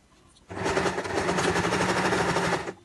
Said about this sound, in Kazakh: Екінші жақ шетін тура осылай тігіп аламыз